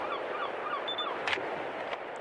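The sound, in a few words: seagulls in a video game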